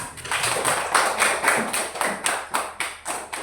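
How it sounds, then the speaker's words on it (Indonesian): Classroom group claps in a steady, roughly rhythmic burst of individual handclaps for a student team during an Islamic religious education lesson, fairly close and moderately loud, with no talking over it. "Mari kita tepuk tangan untuk kelompok 2."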